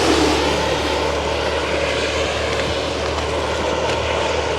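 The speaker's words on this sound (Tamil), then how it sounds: "கிட்ட கிட்ட போகிற பஸ்ஸுகள் போகுது" Buses pass close by on a main road in a village area, making a loud, continuous broadband engine roar that holds steady throughout, with no voices.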